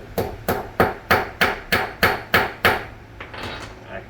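A hammer flattens a battery terminal with about eight loud, evenly spaced metallic blows, then a few softer, quicker taps trail off.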